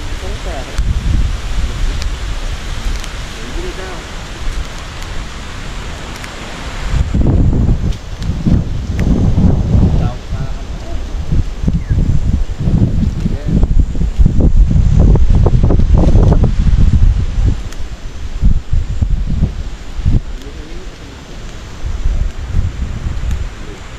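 Gusts of wind buffet the microphone in heavy, rumbling bursts on a mountainside, with a quieter stretch at the start before the blustering picks up.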